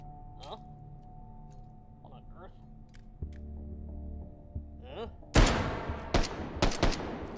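Gunfire from enemies in the video game Hot Dogs, Horseshoes & Hand Grenades, Take & Hold mode, comes as a loud burst of rapid shots followed by several more sharp reports, over quieter game ambience with some earlier faint clicks.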